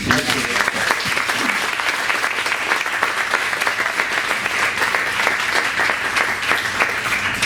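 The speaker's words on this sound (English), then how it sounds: "how about another round of applause for Jay?" An audience applauds a guest speaker named Jay at a real estate talk, with dense, steady clapping from a sizable crowd that holds at full strength throughout, close and loud with no voices standing out.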